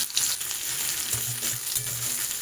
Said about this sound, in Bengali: যে পেঁয়াজগুলোকে কেটে রেখেছিলাম সেগুলো আমি তেলের মধ্যে দিয়ে দিচ্ছি